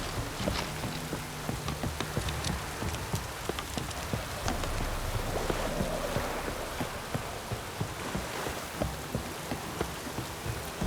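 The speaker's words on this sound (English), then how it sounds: "Those have brought us rain." Steady rain falls in The Witcher 3: Wild Hunt, a dense continuous patter with scattered sharper drops striking surfaces nearby, alone without voices throughout.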